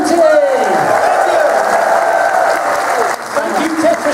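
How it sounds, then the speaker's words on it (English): Convention audience at a furry fandom opening ceremony applauding and cheering, a loud continuous wash of clapping with whoops, while a voice talks over it through a PA. "can we just have a massive round of applause for Yippee Coyote?"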